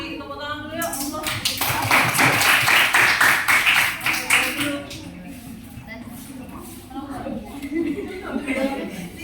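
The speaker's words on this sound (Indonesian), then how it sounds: "Dikasih tepuk tangan dulu ya" Classroom applause from a group of students, a dense burst of clapping that builds and holds for a few seconds before fading, with people talking around and after it.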